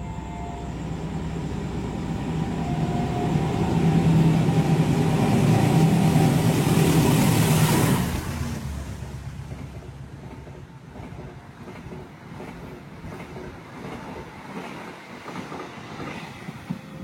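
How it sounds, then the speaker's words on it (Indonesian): Mataram train with a box-nose locomotive speeding straight through Karawang station, passing loud and close as a roaring rush of wheels and engine for about eight seconds, then cutting away to quieter rumbling and faint clatter. "Itu dia barusan kereta api Mataram melintas langsung di stasiun Karawang, ngebut banget ya"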